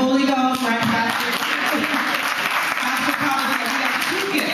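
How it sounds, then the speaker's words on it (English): Church congregation clapping hands at a Christmas concert, a steady dense wash of applause filling the whole stretch with voices mixed in beneath. "You can clap your hands"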